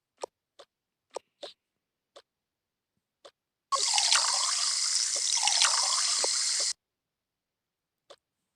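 Several separate drips ring out, then water pours in a steady stream for about three seconds before stopping, followed by one last drip, close and clear with no talking.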